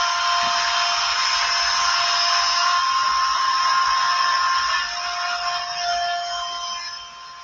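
Router table with a 22.5-degree angled bit cutting bevels on the sides of an octagonal wooden box: a steady, loud high-pitched whine that holds evenly, then dips and tapers off near the end, with no talk.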